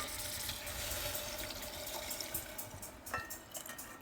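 Hot water is poured off a plate set over a pot of cooking chicken curry. It makes a continuous soft pouring and splashing over about four seconds, close and fairly quiet.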